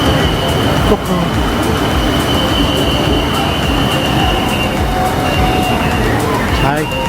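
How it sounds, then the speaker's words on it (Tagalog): A metro train runs through Bangkok, a loud, continuous rumble of wheels on rails with a high squeal running through, while people talk nearby. "So change train kami para papunta doon sa station ng Chatuchak"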